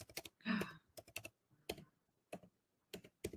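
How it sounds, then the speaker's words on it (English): Typing on a computer keyboard, a few close, crisp clicks in irregular bursts separated by short quiet gaps, with no voices. "I'm going to type it in the comments"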